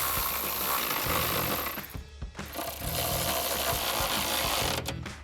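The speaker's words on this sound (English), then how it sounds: "you can now tighten this down with a 16mm socket" 16mm socket ratchet tightening a bolt on a step bar bracket of a 2021 or later Ford Bronco, a steady rapid clicking run that pauses briefly near the middle and then resumes, close and fairly loud.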